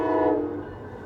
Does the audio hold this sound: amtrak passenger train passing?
yes